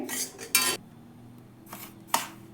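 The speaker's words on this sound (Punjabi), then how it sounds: "ਸੂਜੀ ਆਪਾਂ ਇੱਕ ਪਲੇਟ ਵਿੱਚ ਕੱਢ ਕੇ ਥੋੜੀ ਜਿਹੀ ਠੰਡੀ ਕਰਾਂਗੇ" Metal pan and plate clatter as roasted semolina is scraped out of the pan onto a plate: a few sharp clinks and scrapes spaced across the moment, with no talking.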